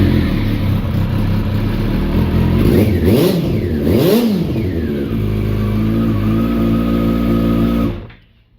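A motorcycle engine idles loudly with a clattery, uneven beat, revving up twice in quick swells before settling back, then cutting off abruptly near the end.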